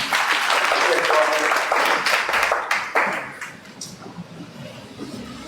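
A church congregation at an evening teaching service applauds and cheers in acclaim of Jesus, a dense wash of clapping and voices that is loud at first and then thins and fades.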